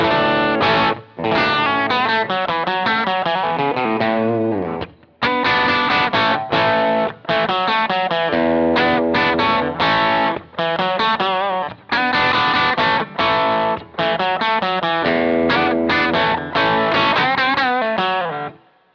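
Distorted Gibson ES-355 electric guitar on the bridge pickup plays gritty rock chords and riffs, loud and driving, with short pauses between phrases.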